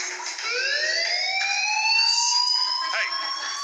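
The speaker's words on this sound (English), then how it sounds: "Hey, do you hear that fire alarm? That means you should be outside." A fire alarm in the video game Life is Strange wails with a loud, steady rising electronic tone that sweeps upward and holds, sounding continuously in the foreground.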